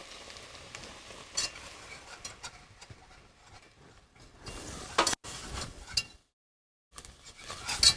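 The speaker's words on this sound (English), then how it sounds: "We only really want to saute." Flour sautéing with softened vegetables in a pan as a blonde roux for loaded baked potato soup, a soft intermittent sizzle with ticking stirs and scrapes, briefly stopping before resuming.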